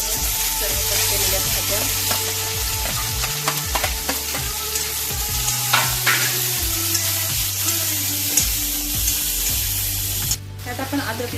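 Cumin and mustard seeds sizzle in a little hot oil in a home kitchen, a steady, close, bright crackle running throughout with tonal background music playing underneath.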